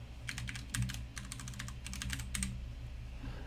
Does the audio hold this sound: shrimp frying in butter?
no